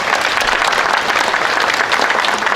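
Sustained, dense applause from an audience at a memorial ceremony for President Syngman Rhee, welcoming an honored guest professor, loud and steady throughout without speech.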